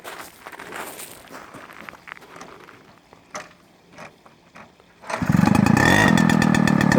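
A Peugeot 105 moped's small two-stroke engine cranks and catches after about five seconds of quiet footsteps and handling, then runs loud and steady close by with a raspy buzz.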